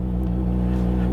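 Custom Yamaha R6 motorcycle idling steadily right after starting, a loud, close, continuous low engine rumble with a strong even hum and no talk over it.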